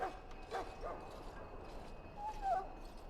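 A wounded dog whines in the Dragon Age video game, giving several high, wavering whimpers and yips at moderate volume over a steady background ambience.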